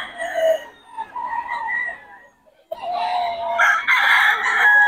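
A chicken clucks in short bursts, then a rooster crows loudly and close, its call rising and stretching out at the end.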